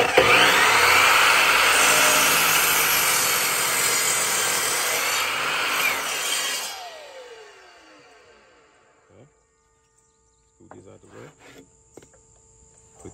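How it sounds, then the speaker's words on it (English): A power compound miter saw makes a compound miter cut through wood, a loud, steady whine and bite lasting several seconds before spinning down, followed by quiet and a few small handling knocks. "Compound miter cut on a compound saw."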